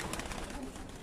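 Pigeons in a loft coo softly in a brief, continuous murmur with no other sounds.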